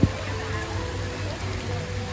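Steady rain falling at Singapore Zoo, a continuous soft hiss of drops on surfaces with no clear pauses.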